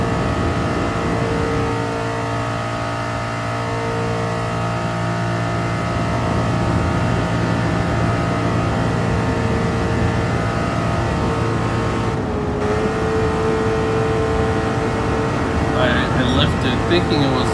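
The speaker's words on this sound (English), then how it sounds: "It's old, it's 1966 Ford GT." A 1966 Ford GT engine in Gran Turismo Sport drones steadily at high revs with a brief shift dip, loud and continuous beneath someone talking.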